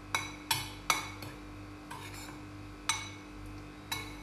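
A spoon clinks against a bowl while gram flour batter with baking powder and salt is mixed, giving sharp, irregular taps spaced apart, close and moderately loud.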